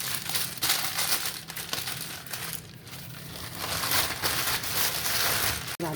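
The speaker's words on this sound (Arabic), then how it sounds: "وتلفيه في كيس جوه كيس كده تاني" Plastic bag crinkling and rustling as salted fish is wrapped inside a second bag, close and continuous with irregular crackles throughout and no talking.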